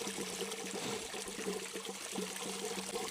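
Water from the return hose of an Oase Filtoclear pond filter trickles and splashes steadily back into a garden pond, a soft continuous flow heard close and alone.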